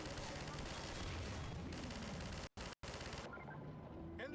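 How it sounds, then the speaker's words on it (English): Turrets in Half-Life 2 fire rapid bursts of gunfire with booming low thuds, loud and dense, broken by two brief dropouts before the shooting thins out near the end. "here's a safe place to test out the turrets"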